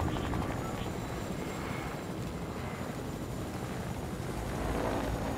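Helicopter rotor and engine noise from a Fortnite-style video game, a steady low rumbling drone that holds for several seconds at moderate, even volume.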